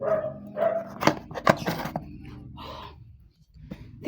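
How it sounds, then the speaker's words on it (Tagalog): Several dogs bark in sharp, irregular bursts close by, with a couple of loud yaps in the middle and quieter noise trailing off. "Ay, ingay yung mga aso."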